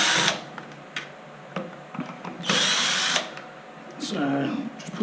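A power drill whirs in short bursts while backing out the screws that hold the gearbox to the frame of an MGI Zip Navigator golf trolley, with quiet pauses and small handling noises between the runs.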